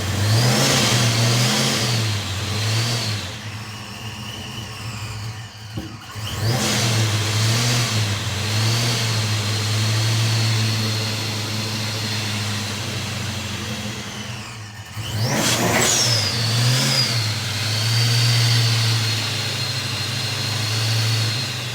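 A car engine is held at high revs with the throttle pinned, producing a loud, sustained roar that briefly sags twice before climbing back up.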